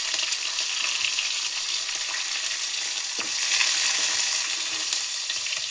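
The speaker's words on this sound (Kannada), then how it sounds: "ಇದನ್ನು ಎಣ್ಣೆಲೆ ಚೆನ್ನಾಗಿ ಫ್ರೈ ಮಾಡ್ಕೊಳ್ಳಿ" Curry leaves and green chilies frying in hot oil, a loud, continuous close sizzle with a brief stirring scrape partway through.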